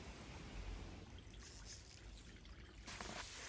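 Cold spring water trickles and splashes steadily into a brook-trout creek near an old railroad, a soft continuous wash with no voices.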